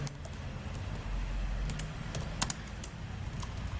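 Computer keyboard typing code, a quick irregular run of light key clicks over faint room noise, with no voices.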